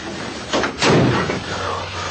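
A door bangs shut once with a heavy thud, close and fairly loud, followed by muffled room noise.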